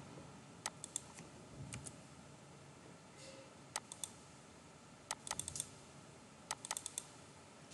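Typing on a computer keyboard while working in Notepad++, heard as scattered light clicks and short bursts of keystrokes over a faint steady background hum, with no talking.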